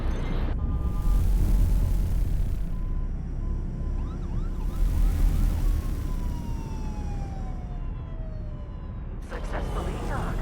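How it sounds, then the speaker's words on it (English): Sirens in the X4: Foundations space game wail in rising and falling sweeps that are mid-distance and partly buried under a loud rumbling engine-like drone, with a brief tone gliding downward near the end. "Yeah, those sirens."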